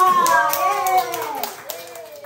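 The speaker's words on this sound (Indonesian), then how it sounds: "Tepuk tangannya dulu untuk kelompok 2" Children at a retreat clap for a group, with brief scattered claps over lively talk and chatter from young voices.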